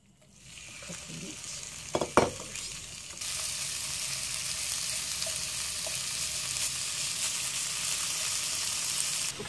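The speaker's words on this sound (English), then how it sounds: "once you put the meat in, you don't want to move around too much. You just want to let it cook on one side." Pork belly sizzles in a wok for a stir-fried udon with cabbage, preceded by a couple of sharp clatters. Then it settles into a steady, loud frying hiss that holds to the end.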